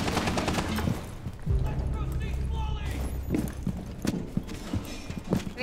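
Bursts of gunfire in Rainbow Six Siege crack out in scattered shots over a busy game soundscape, with players talking throughout.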